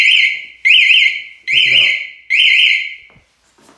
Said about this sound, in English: Flashes all my lights and everything. And I could set it off. It's actually very loud.